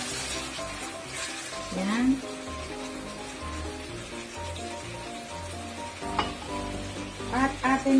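Eggplant and pork stir-frying in a hot pan give off a steady sizzle with scraping and stirring throughout, with background music playing underneath.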